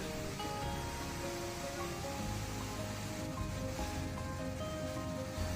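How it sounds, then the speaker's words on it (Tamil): Water pouring down the Bheeman waterfall, a steady dense roar of falling water and spray that fills the whole stretch without pause and without anyone talking. "இங்கே பாருங்கள் அருவியில் எவ்வளோ தண்ணி கொட்டுதுன்னுட்டு."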